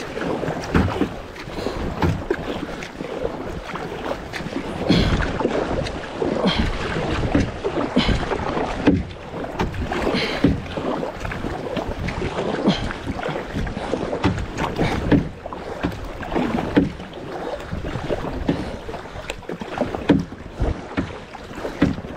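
A cheap Walmart kayak paddled hard across a 94-acre lake: rhythmic splashing paddle strokes and rushing water, close and loud, with gusty wind buffeting the microphone throughout.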